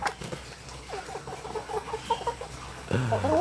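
A pet chicken clucks softly and repeatedly as it follows its owner around a home farmyard, with short, quiet, close calls against low background noise and a louder rustle near the end.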